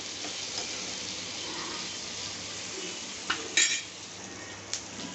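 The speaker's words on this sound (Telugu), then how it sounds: "పొటాటో ఫ్రై వేగుతుంది పక్కన" Potato fry sizzling in a pan, a steady close hiss of frying with a couple of brief metallic clinks of utensil on pan near the end, no talking.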